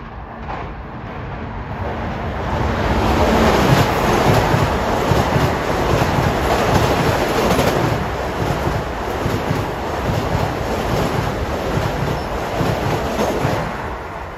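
An LIRR train rumbles past Elmont station in a residential area, a dense, loud, continuous roar of wheels and cars building after the first seconds and holding steady close by.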